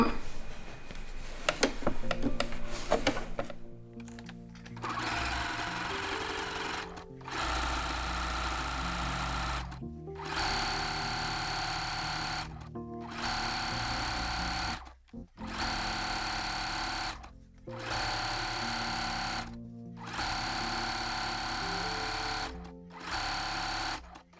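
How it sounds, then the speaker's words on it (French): Sewing machine stitching a zigzag around the edge of slippers, a humming mechanical whir in repeated runs of a few seconds each, separated by short pauses as the work is turned. "on va faire maintenant un point zigzag tout autour"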